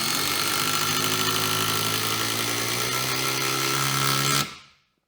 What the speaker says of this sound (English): the DCF 850, which is the 20 volt atomic 1/4 inch brushless impact driver